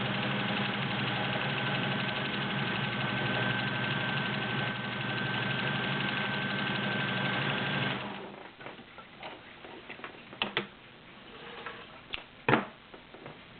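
A vintage Kenmore model 1803 sewing machine runs a stretch stitch with a steady fast mechanical whir for several seconds, then stops, leaving scattered clicks and knocks from handling the machine.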